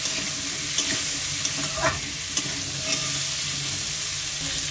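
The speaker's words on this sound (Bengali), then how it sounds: "এখন একটু ফ্রাই করে নেব হালকা করে" Greens (pui shak) frying lightly with salt and turmeric, a steady soft sizzle close by with occasional stirring scrapes and small clicks, no voices.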